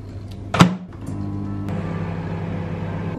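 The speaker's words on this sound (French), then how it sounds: "Je mets ça au micro-ondes et on se retrouve après." A microwave oven heating food, preceded by a sharp thunk of the door shutting, then a steady low hum starting and continuing evenly close by.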